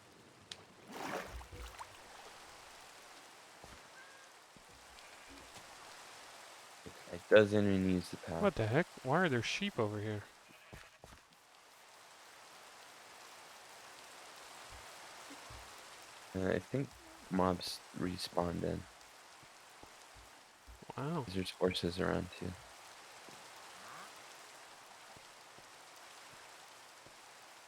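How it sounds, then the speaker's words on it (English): Soft, steady rain hiss plays quietly under several bursts of talking, with faint distant effects in between. "Starts raining."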